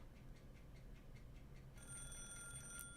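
An alarm clock ringing in a Higurashi visual novel, starting about two-thirds through as a sustained, bright electronic ring that grows louder toward the end, following a quiet stretch of faint rhythmic ticking.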